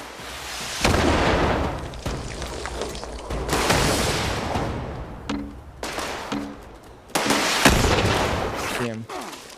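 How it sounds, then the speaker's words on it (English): Missiles exploding in a chaotic game, heavy booming blasts and crackling bursts arriving in several waves over about ten seconds, loud and close, with voices audible between them. "Who's shooting missiles?"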